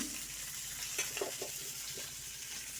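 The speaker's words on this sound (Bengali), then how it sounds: "মাছের মাথা ভালো করে ভেজে নিচ্ছি মুচমুচে করে লাল লাল করে ভেজে নেব" Fish heads fry in oil in a home kitchen, with a faint, steady sizzle and a few soft stirring taps near the middle, and no voices.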